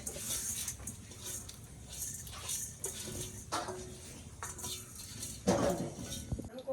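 Fried moong dal tipped into a cooking pot and stirred, with soft scraping and clinks of a spoon against metal repeating at a moderate, uneven pace, close and fairly quiet, with a sharper clatter near the end.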